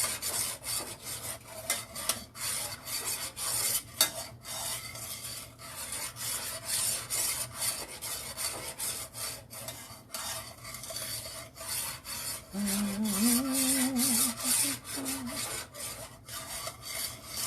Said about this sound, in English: I'm just stirring it so it won't get thick.